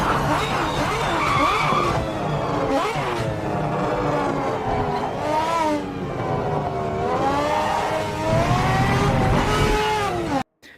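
Engine revs and sharp downshift blips from a race car in the Project Motor Racing video game, climbing and dropping in pitch over a steady, loud drone with tire squeal, ending abruptly.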